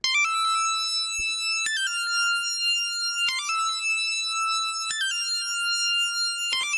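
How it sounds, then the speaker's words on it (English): A cell phone ringtone spliced into a hard trap-style beat made in FL Studio, its bright high warbling pattern repeating in four loud bursts alongside sharp percussive hits. "And then I just spliced in a cell phone sound just to give it a little more ear candy."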